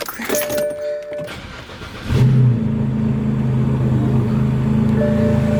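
A BMW engine cold-starting after a radiator leak, a brief cranking whir followed by a loud catch and a steady, high idle that holds close to the microphone, with some handling noise before the start.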